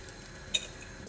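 Green cardamom pods, a cinnamon stick, bay leaves and cumin seeds sizzling in hot sunflower oil in a pan, a steady soft hiss with a single brief metallic clink of a utensil partway through.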